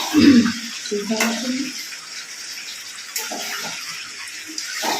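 Water splashes and pours near the start, a bathtub-like gush that fades into a quieter background while a person talks intermittently over it.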